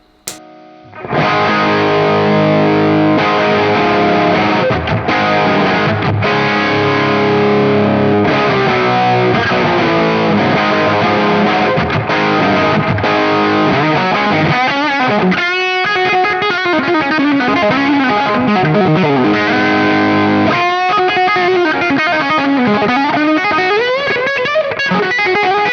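Loud, heavily overdriven electric guitar through a tube amp, played through a Mezzabarba Skill head, chugging and ringing chords, thick and saturated, playing continuously with brief pauses between riffs.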